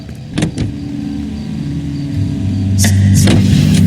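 A Nash car engine in the game L.A. Noire idles close and loud, then rises in a low steady rumble, with a couple of brief sharp mechanical clunks over the drone.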